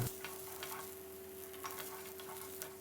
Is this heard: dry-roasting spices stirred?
yes